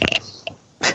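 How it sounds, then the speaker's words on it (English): A short, close burp breaks out at the start, followed by a small throaty click and another loud burst of air or voice at the end. "That was a burp."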